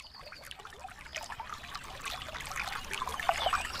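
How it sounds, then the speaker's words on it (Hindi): Water pours out of a flooded house through its doorway in a Hindi cartoon, a steady trickling, splashing flow that grows louder and busier toward the end. "गोरी के पूरे घर में पानी जमा हो गया और घर के दरवाजे से पानी बाहर बहने लगा।"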